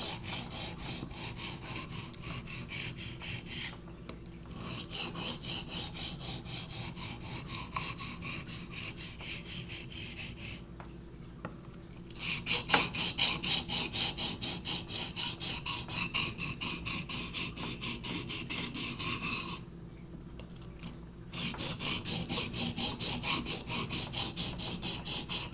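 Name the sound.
grinding Condor Bushlore knife down to a Scandi grind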